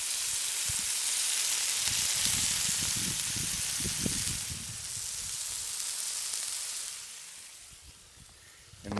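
A blackened prime New York strip steak sizzles on a grill in a loud, hissing crackle. The sizzle rises and falls over several seconds, heard up close with no voices.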